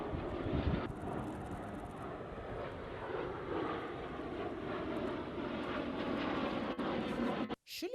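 Aircraft roar through a precision flying display at an air show in Makurdi, Benue State, with a broad, loud engine wash that holds steady throughout and a brief dip near the end.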